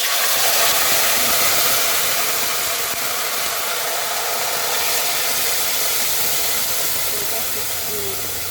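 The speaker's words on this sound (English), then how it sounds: "So now I'm gonna tip in my boiled tomatoes, onions, garlic, ginger. Put in the oil." Boiled tomatoes, onions, garlic and ginger tipped into hot oil for Ghanaian shito chilli sauce, giving a steady loud sizzling hiss that holds throughout and slowly eases.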